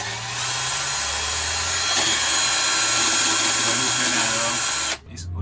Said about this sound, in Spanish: Y para probar si no hace más ruido, taladro, mechita.